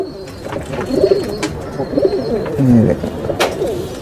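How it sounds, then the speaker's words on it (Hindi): Pigeons coo softly and repeatedly nearby in a loft in Vikroli, Mumbai, their low throaty calls overlapping, with faint background noise and a brief word spoken. "ये देखो दोस्तों सब कबूतर यहाँ पे छोड़ चुके हैं।"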